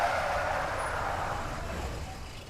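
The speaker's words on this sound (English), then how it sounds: "The sound of screeching brakes filled the air as the vehicle skidded to a halt" A car racing down a street in the game 428: Shibuya Scramble brakes hard and skids to a halt, a loud, broad tyre-screech hiss that fades gradually over a couple of seconds.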